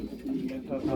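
Pigeons in a loft coo in soft, throaty pulses, close by, while someone talks over them throughout.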